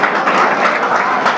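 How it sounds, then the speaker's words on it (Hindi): An audience at a Gahoi Samaj community meeting claps together to approve the treasurer's accounts, a short, dense, close burst of applause that stays even throughout. "तो पास करके ताली दीजिए।"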